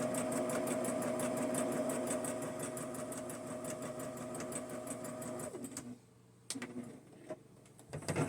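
Sewing machine running steadily as it stitches a quarter-inch seam through a quilt block, a continuous close whirring hum that cuts off near the end, followed by a few short bursts of stitching.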